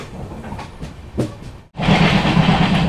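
Mandovi Express passenger train running on rails at Sawantwadi Road station in heavy rain, a rattling rumble that drops out briefly and then returns louder and steadier, with no talk.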